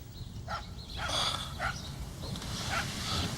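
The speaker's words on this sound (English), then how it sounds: "Shut that dog up." Several short barks from a dog in the video game Tender Loving Care come in quick bursts over a low room-tone background, moderately loud and with no voices.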